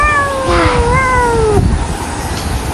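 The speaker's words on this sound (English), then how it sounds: "Cat." Cat meowing twice in a short, clear, close sequence, the second call drawn out and falling in pitch, over a low background hum.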